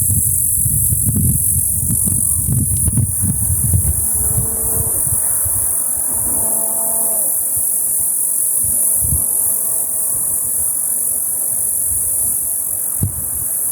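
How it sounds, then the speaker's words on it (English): Cicadas buzzing in trees outdoors, a steady high-pitched drone running throughout, with faint rustles and brief bird calls underneath. "The cicadas are singing in the trees."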